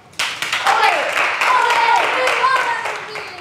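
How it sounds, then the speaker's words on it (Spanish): A school class breaks into applause, a burst of clapping that starts suddenly and carries on under excited overlapping voices and shouts. "Aplauso."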